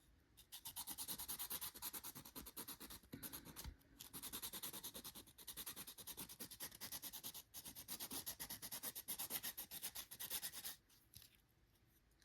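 A Polychromos colored pencil grinds in a pencil sharpener, close and quiet, with a steady rapid scratchy rasp broken into several short bursts and pauses.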